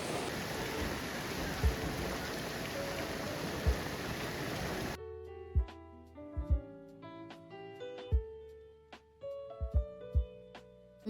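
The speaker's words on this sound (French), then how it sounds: "On est passé au musée et on s'est fait rattraper par une énorme pluie." Heavy rain and hail in Berlin make a dense, steady roar for about five seconds. Then the sound cuts to a quieter scene with scattered sharp taps and tones.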